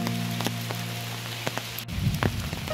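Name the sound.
rain falling in a forest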